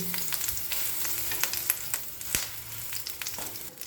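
A spinach omelette fries in a pan, a moderate steady sizzle with scattered crisp pops and a sharp tap midway, heard alone without speech.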